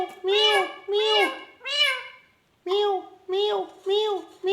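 A ringneck parrot imitates a cat's meow in a run of about seven clear, rising-and-falling meows, spaced evenly and close up, with no other voices.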